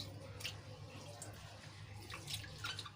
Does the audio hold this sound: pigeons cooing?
no